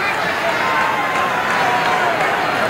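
Wrestling crowd at a Houston tag-team title match, a dense, steady roar of cheering and shouting egging the wrestlers on, loud and continuous throughout with no clear breaks.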